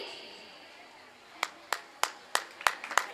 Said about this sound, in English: Please just applaud them by clapping your hands